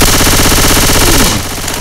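Rapid automatic gunfire in the zombie shooter Left 4 Dead 2, loud dense bursts with echoing game noise, cutting off sharply near the end.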